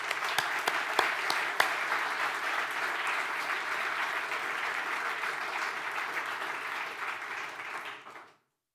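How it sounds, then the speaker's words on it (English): An audience at a conference closing speech gives a round of applause, steady crowded clapping with a few sharper claps early on, fading out over the last second. "So can you congratulate him by giving him a round of applause?"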